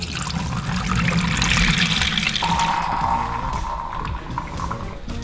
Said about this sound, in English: We're just gonna transfer the wort into our fermenter.